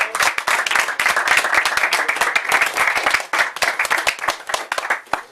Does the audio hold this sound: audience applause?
yes